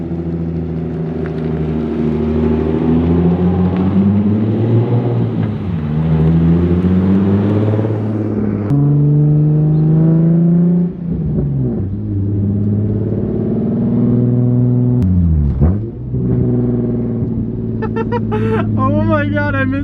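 Nissan 350Z engine on a road test drive, climbing in pitch through repeated accelerations with pauses at gear changes, a loud close rumble and whine rising and dropping across several pulls.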